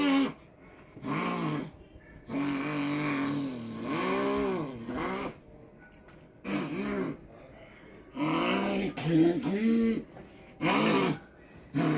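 A child mimics a car engine speeding up, voicing a string of rising, wavering vroom bursts separated by short pauses, close and fairly loud in a quiet room.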